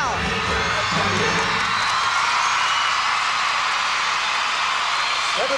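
At a 1997 professional gymnastics championship, a large arena crowd cheers and roars loudly and continuously during a gymnast's final tumbling pass, with shouts and whoops swelling over the noise while a commentator talks briefly.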